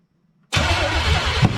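A 454 engine with timing problems turns over under throttle, and after half a second of silence a loud, steady cranking drone with a rhythmic low pulse starts abruptly and keeps going.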